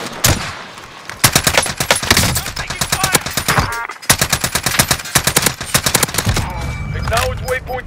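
Rapid bursts of automatic gunfire from SMGs in Call of Duty Warzone Season 5, loud and close, with dense rattling volleys broken by brief pauses and faint game voice callouts underneath.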